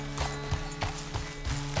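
Rhythmic clip-clop of horse hooves in the video game Red Dead Redemption 2, steady trotting beats at close range with a faint mechanical creak beneath.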